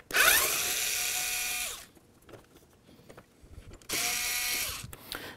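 A ratchet spins off Torx 30 screws on a 2010–2012 Can-Am Spyder RT during a battery change, giving two loud bursts of rapid clicking separated by a quieter pause with faint handling noises.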